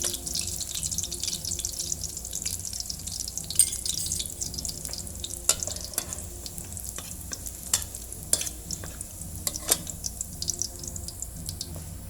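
Mushrooms stir-fried with garlic in oil and oyster sauce, a continuous close sizzle with repeated clicks and scrapes of a utensil against the pan, no voices.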